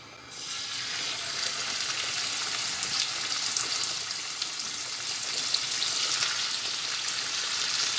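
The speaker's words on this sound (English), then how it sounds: "Now we'll cook off this pork." Pork fries in a couple of tablespoons of oil in a pan over medium heat, giving a steady, bright, dense sizzle that starts abruptly and continues evenly, close and alone without talk.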